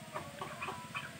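Chickens sunbathing cluck softly in a few short, low, close calls over a steady background hiss.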